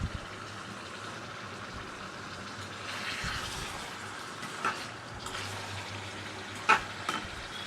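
Chicken livers fry Andhra style in a pan, a soft, continuous sizzle and crackle at low volume with a few faint clinks and pops.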